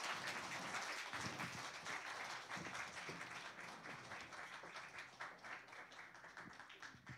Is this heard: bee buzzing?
no